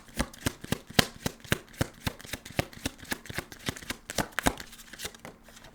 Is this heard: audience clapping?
no